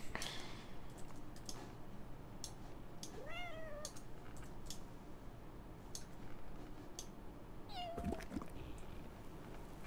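Cartoon cat meows twice in the game Little Inferno, short rising-falling cries near 3.5 and 8 seconds over a steady bed of game noise and faint ticking, no talk.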